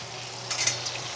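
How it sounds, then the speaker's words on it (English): Soft hiss and crackle of food sizzling on a hot metal plate, a brief burst rising over quiet background hum. "We're going to use this very chefy thing called a sizzle platter"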